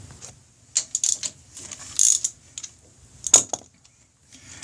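A ratchet wrench tightening a spark plug on a Bigdog motorcycle, giving several short bursts of rapid clicking with pauses between, close and clear.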